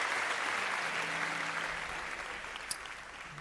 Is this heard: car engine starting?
no